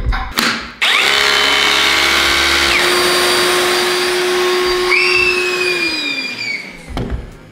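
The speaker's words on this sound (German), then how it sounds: "Das ist die Bohrmaschine und das ist der Staubsauger." A power drill with an attached vacuum cleaner whines, the vacuum running alongside, pitch shifting as the drill spins up and winds down.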